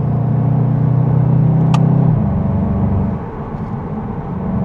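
VW Golf 8.5 GTI (2026) engine in sport mode with manual shifting, a muted steady low drone heard from inside the cabin that drops in pitch as a gear changes, then settles into a rougher rumble.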